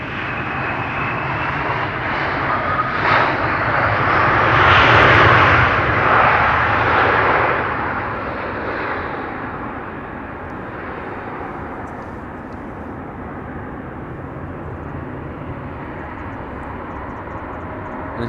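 A Lufthansa CRJ jet touching down at Amsterdam Schiphol on arrival from Munich, a broad engine roar that swells to a loud peak and then fades into a steady distant rumble.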